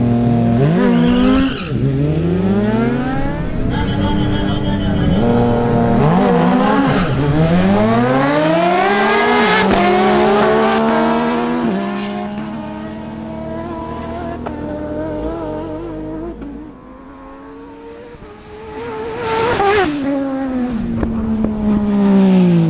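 A Kawasaki ZH2 motorcycle makes a drag race run at a Christmas Cup event. The engine is loud and continuous, its pitch climbing sharply again and again as it shifts through the gears, then easing briefly before a final surge.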